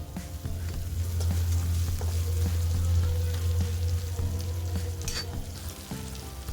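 Tomatoes and potatoes fry in a pan with a steady, close sizzle and crackle running unbroken through the whole stretch, with no talking over it.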